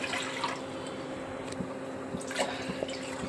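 Water runs and trickles steadily into a pan for rice batter, a faint continuous pour with a few small drips and no talking.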